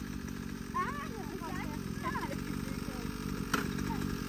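A YCF motorcycle idles steadily nearby in Ecuador, its engine hum running continuously while children's voices chatter over it.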